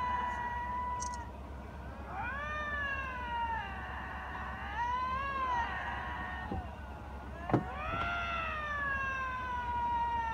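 Canadian lynx in Maine scream in drawn-out, wavering yowls that swell and fall in three or four long bursts, close and clear over a quiet background, with a sharp click near the end.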